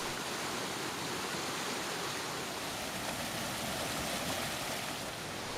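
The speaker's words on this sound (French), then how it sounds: "Le cours d'eau sort de sous terre pour tomber en plusieurs cascades successives de plusieurs dizaines de mètres de hauteur." Water of the Coulon stream emerging from underground and tumbling down successive cascades tens of metres high, a dense continuous roar heard close and loud, steady throughout with no voices.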